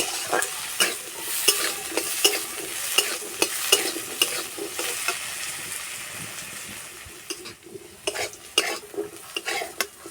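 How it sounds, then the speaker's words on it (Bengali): Potatoes frying in a pan while being stirred, steady sizzle with repeated scraping strokes of a utensil against the pan, close and clear with no talking. "আলু খুব ভালো করে ভেজে নেব"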